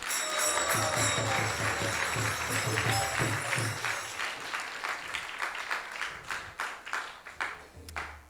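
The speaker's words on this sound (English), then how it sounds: "let's give him a big round of applause" A temple hall audience at ISKCON Silicon Valley applauds Vaisheshika Prabhu after his kirtan, dense clapping at first over a fading low musical drone, then thinning to scattered individual claps that trail off.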